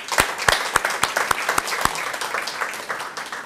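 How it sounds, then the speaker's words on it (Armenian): Audience applause at an Armenian school alumni event, with sharp separate claps early that thin into a steady, moderately loud patter from the crowd. "Ծափահարություններ"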